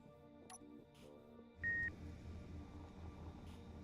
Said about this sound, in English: That beeping is the remote control.